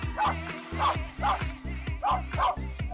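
A dog barks in a quick rhythmic series of about eight sharp woofs, close and loud, with no talking.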